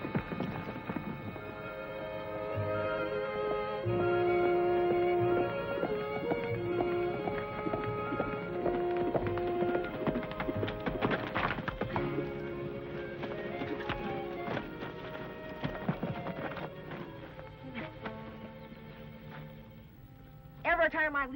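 Horses clip-clop and gallop with steady hoof rhythm under a dense orchestral western score, an occasional whinny rising through, hooves moderately near and mixed below the music.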